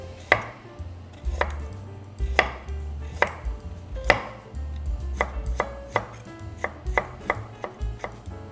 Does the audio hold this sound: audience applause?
no